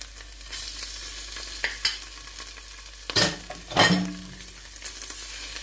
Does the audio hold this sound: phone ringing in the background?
no